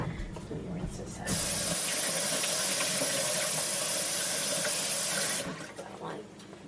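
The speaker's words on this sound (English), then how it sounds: "Let me rinse this out." A can being rinsed under a running kitchen sink tap, a loud steady hiss of water that starts abruptly, streams for about four seconds, then cuts off, with kitchen noise on either side.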